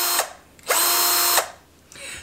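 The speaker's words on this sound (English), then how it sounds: "You can see where you're drilling." A 20V cordless drill driver from an impact drill kit with a 2.0Ah lithium-ion battery whirs loudly in short bursts, one brief spin followed by a longer steady run, then the motor starting up again, close and alone.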